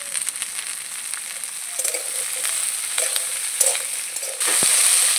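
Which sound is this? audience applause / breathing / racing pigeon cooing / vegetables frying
vegetables frying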